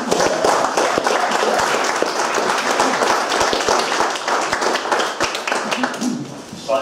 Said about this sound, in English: Jonathan, the crowd will go wild and cheer and applaud as you come up, please.